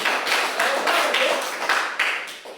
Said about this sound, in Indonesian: mari kita berikan aplaus yang meriah untuk ini